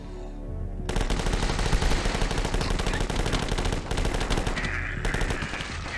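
Gunfire in the video game The Last Stand 2, with shots hitting propane tanks: dense, loud, rapid automatic shooting that starts abruptly and keeps going without a break.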